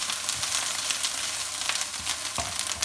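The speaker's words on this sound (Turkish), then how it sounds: "tereyağı ekleyeceğim şimdi" Butter sizzling in a hot pan with onions and boletus mushrooms, a close, continuous crackling fry with small pops and no talk.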